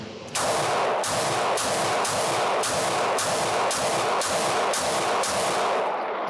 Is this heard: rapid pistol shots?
yes